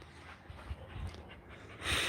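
A dog pants close by in short, soft breathy puffs with a few snorts, then a louder burst of breath at the end, with no talking.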